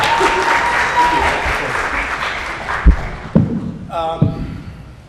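Audience applause fills a film festival Q&A, loud and dense for about three seconds before thinning out into a few scattered claps and light speech.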